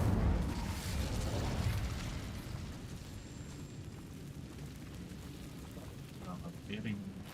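An Incendio fire spell is cast in Hogwarts Legacy, giving a fiery rushing burst that swells at the start, then eases into a lingering crackling roar, with a short sparkly effect near the end.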